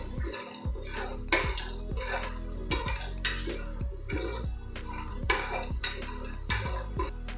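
Cardamom and cinnamon frying in a pan for a Bangladeshi milk vermicelli dessert, with repeated clinks and scrapes of a utensil against the pan over a soft background sizzle, close and steady, no talking.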